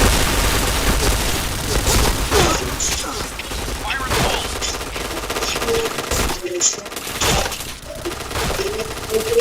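Gunfire in a shooter video game, dense bursts of automatic fire and scattered shots with booms, loud and continuous, with voices talking over it.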